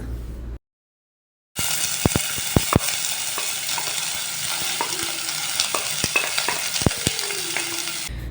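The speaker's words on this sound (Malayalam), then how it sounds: "എണ്ണ നന്നായിട്ട് ചൂടായി വരുമ്പോൾ നമ്മൾ കട്ട് ചെയ്ത് വെച്ചിട്ടുള്ള സവാള ചേർത്ത് കൊടുക്കുക" Chopped onions for beef cutlets fry in hot sunflower oil, giving a loud, steady sizzle after a brief moment of silence, punctuated by sharp scrapes and clicks of a stirring spatula, with no talking.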